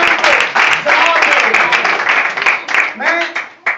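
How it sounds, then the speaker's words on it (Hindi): An audience in a church service claps loudly and steadily for several seconds, a dense burst of hand claps close by, with voices mixed in. "जोरदार तालियां होनी चाहिए"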